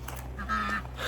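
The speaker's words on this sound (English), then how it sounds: "Hi, ducks." Ducks on a farm give a short burst of honking quacks, heard briefly at moderate distance over a low background hum.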